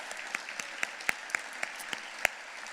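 Applause from an audience at an award dinner, sparse, distinct claps ringing out quietly at a slightly uneven rhythm.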